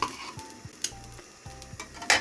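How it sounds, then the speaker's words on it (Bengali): Egg-dipped bread fries in a pan, a soft sizzle under scattered clinks and scrapes of a utensil against the pan, close and moderately loud. "ডিম পাউরুটি ভেজে নিচ্ছি।"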